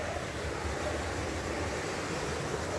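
Steady broadband rush of flowing river water while hiking through a river near Gordon Town, St Andrew, on the way to Penfield Falls; continuous and fairly loud, with wind noise on the microphone and no talking.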